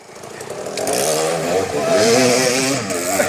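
A dirt bike engine revs hard during a wheelie at a river crossing near Ketchum, Idaho, a loud, close buzzing rasp that rises and falls in pitch over a few seconds.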